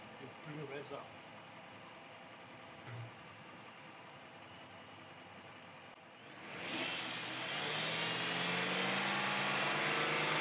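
A car engine idles quietly during a head gasket diagnosis, then the revs rise and hold at a louder, rougher pitch, with voices talking over the idle early on.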